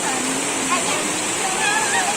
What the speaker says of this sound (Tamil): அருவி எவ்வளவு சூப்பரா வந்து பாருங்க.